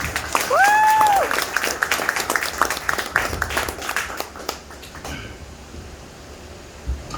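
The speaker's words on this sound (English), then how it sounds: "Everyone give her a round of applause." A crowd at a mentalism show breaks into dense applause, clapping loudly before thinning out, with a brief rising whistle near the start.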